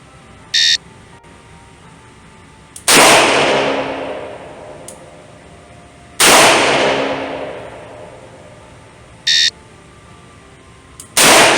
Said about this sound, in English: On command, fire 2 rounds in 3 seconds, assume the ready position